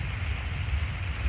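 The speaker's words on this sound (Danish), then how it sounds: "det er hyggeligt at ligge og lytte til regnen" Rain falls at Roskilde Festival as a steady, close hiss of drops on a surface, with no voices over it.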